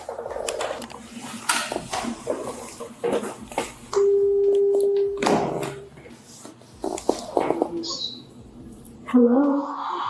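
Telephone call on speakerphone: an electronic ringback or busy-type tone sounds in short steady bursts between snatches of nearby talk and handling noise, loud and close.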